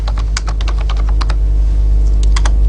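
Close, loud run of computer keyboard keystrokes as a full name is typed, quick clustered clicks with a short pause before a final burst, over a steady low hum.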